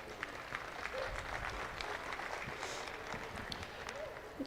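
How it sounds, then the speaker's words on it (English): A crowd at a junior beef steer show breaks into applause, heard as a fairly faint, distant and even patter of many hands lasting a few seconds. "Let's give these kids a round of applause."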